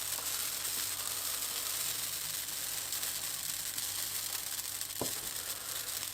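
Continuous soft sizzling and crackling of pancake batter frying in a hot pan, steady and close, with a faint click near the end.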